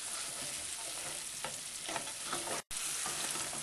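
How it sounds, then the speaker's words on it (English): Curry masala spice mix frying with onions, garlic and ginger for chicken tikka masala sauce, a dense continuous sizzle with occasional stirring scrapes, close and even, one brief dropout near the end, no voices. "Now it's time to add the masala mix, which is the flavouring for the curry sauce. Fry that off for a couple of minutes until fragrant."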